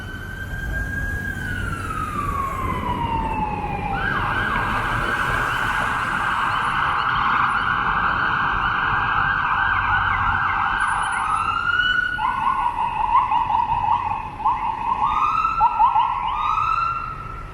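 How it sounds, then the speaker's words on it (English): An ambulance siren passes along a downtown Toronto street lined with tall condos, wailing and then switching to a fast yelp, loud and close over steady traffic noise. "Now we have an ambulance coming."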